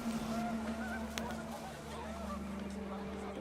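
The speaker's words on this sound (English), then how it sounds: "The wind picked up, and panicked geese appeared and quickly went." Panicked geese honk in a video game scene from What Remains of Edith Finch, a brief flurry of calls over a steady hum and wind-like background, with no one talking.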